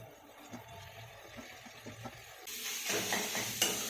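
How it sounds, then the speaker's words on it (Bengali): Grated paneer goes into a pan for bhurji and gets stirred, soft scraping and dabbing sounds at first, then a louder sizzling hiss joins in partway through, all close and fairly quiet. "এবারে এর মধ্যে এই গ্রেট করে রাখা পনিরগুলোকে অ্যাড করে দিচ্ছি।"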